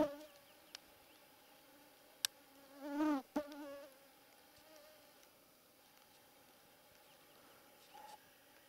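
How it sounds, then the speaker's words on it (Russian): A mosquito whines briefly past at close range in a field at dusk during a roe deer hunt, with a thin high buzz rising and fading amid quiet countryside and faint insect ticks. "Комары так у меня всю кровь выпьют."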